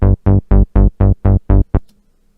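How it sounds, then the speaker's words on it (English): Synth bass line playing alone in an EQ tutorial: eight punchy, deep notes in a steady rhythm, loud and close, with a short clipped final note before silence. "Here's a bass line."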